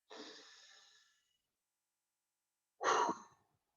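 Two close breaths: a long airy exhale trailing off, a silent pause, then a sharp, strong breath in, alone with no talk.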